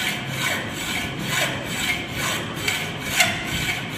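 A hand saw drives through a wooden workpiece in steady, full-length strokes, each pass a rasping scrape about half a second long in an even back-and-forth rhythm, close and clear with no talk.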